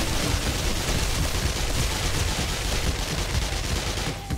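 Rapid submachine gun fire in the zombie survival game 7 Days to Die, a dense continuous burst of shots running loud and steady for several seconds, with no talking.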